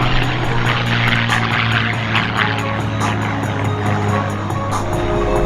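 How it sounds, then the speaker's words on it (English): A P-51 Mustang warbird passing at an air fest at MacDill in Tampa, its propeller engine giving a loud, steady, close droning roar that holds for the whole stretch with no speech. "The Mustang, low and hot."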